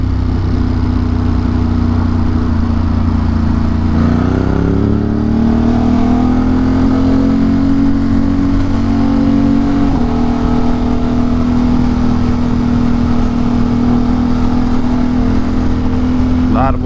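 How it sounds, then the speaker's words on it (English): Steady, loud engine drone of a motorcycle cruising on a highway, with continuous wind rush and a slight pitch rise as it accelerates, holding a constant tone throughout. "A lot of motorcycle riders today."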